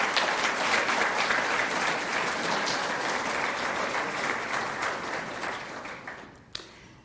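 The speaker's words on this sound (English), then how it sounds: "let's give these folks a round of applause." Sustained applause from a seated audience at a scholarship luncheon, steady and dense at first, then gradually thinning and fading out toward the end, with one sharp louder clap near the close.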